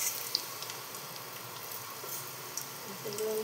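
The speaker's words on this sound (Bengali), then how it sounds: "ফ্রাই করে নেব, হালকা লাল করে নিতে হবে" Baby corn coated in flour and cornflour fries in hot oil, giving a steady, soft sizzling hiss with faint crackles throughout.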